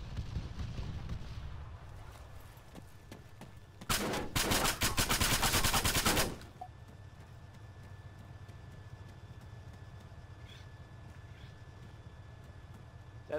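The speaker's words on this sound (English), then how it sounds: "he's shooting at me now" A dense burst of rapid automatic gunfire in the military video game ArmA 3, roughly two seconds of loud rattling shots over a steady low engine rumble, with vehicle noise continuing after the firing stops.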